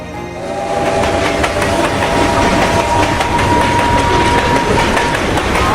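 A train rolls steadily along the rails through a signal and switches, loud and close, with a continuous rumble, rhythmic clatter and a faint sustained whine.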